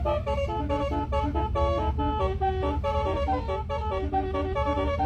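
A telolet horn with many modules on a small bus plays a busy string of tuned tones in quick, shifting patterns. It sounds loud and near over a low engine rumble.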